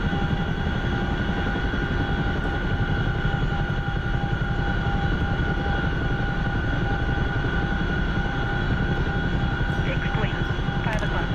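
Constant droning aircraft engine with a steady whine and rumble, heard from inside while coming in to land, unbroken throughout with faint voice-like sounds beneath.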